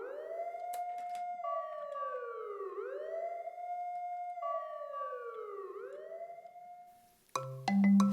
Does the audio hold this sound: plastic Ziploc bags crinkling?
no